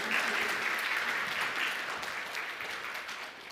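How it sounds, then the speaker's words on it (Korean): A church congregation applauds two graduates of a theology diploma program during a Sunday worship service, steady dense clapping filling the room for several seconds and easing slightly toward the end. "나오실 때 한번 큰 박수로 여러분 축복해 주시면"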